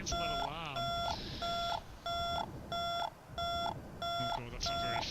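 An X-Plane 11 flight simulator cockpit alarm sounds in loud, regular electronic beeps, about six in quick succession over a low engine drone, while someone talks briefly over the start.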